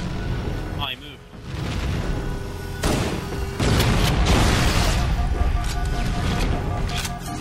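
Rocket explosions in a shooter video game: loud, close booms bursting out of a dense, continuous wash of game noise, with a heavy blast rolling on and sustaining at full strength through the rest of the stretch.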